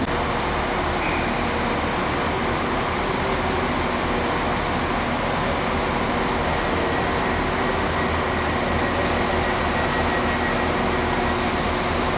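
A steady low rumble of a passing train near Manchester, fairly distant and even, with no voices.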